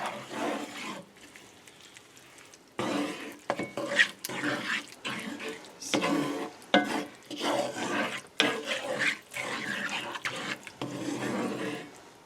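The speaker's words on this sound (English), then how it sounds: "Let's mix that in." Meatloaf ingredients with ketchup are stirred in a bowl, giving wet squelching and rubbing sounds in rhythmic strokes with brief pauses, close and moderately loud.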